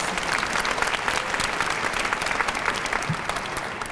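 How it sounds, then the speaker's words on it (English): An audience at an alumni assembly applauds in a dense, steady round of clapping that fills the room and holds at an even, fairly loud level throughout. "Please give them another round of applause."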